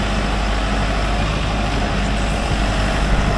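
A tractor engine barely idles beside a farm conveyor, a steady low rumble with a rough, noisy texture that holds level without revving, close and continuous.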